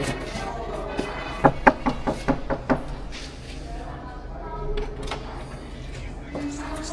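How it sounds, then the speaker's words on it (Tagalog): Sharp knocks on a sleeping man's room door, about seven raps in an uneven run close by, then quiet room tone with faint movement. "so kakatok tayo."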